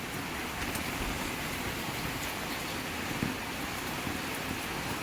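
Steady, dense hiss of heavy monsoon rain falling hard in Kerala, continuous and even throughout with no voices.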